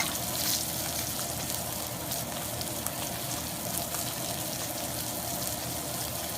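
Steak frying in an oiled pan, a steady, even sizzle and hiss that carries on without a break, close and moderately loud, with no voices.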